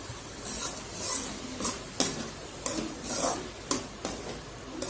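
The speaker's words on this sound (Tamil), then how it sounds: "இப்போது பொடியாக நறுக்கி வச்சுருக்கிற காளானை இது கூட சேர்த்து நல்லா கிளறி விட்டுக்கலாம்." Scraping and stirring finely chopped mushrooms with masala in a frying pan with a steady sizzle underneath, the spoon strokes landing in an irregular rhythm, close and fairly quiet.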